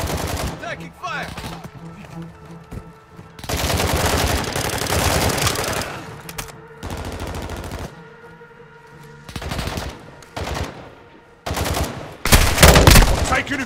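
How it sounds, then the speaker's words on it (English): Bursts of automatic gunfire in the shooter Call of Duty: Modern Warfare II, loud clustered volleys separated by quieter gaps, with a sharp heavy burst near the end and voices in between. "Taking fire!"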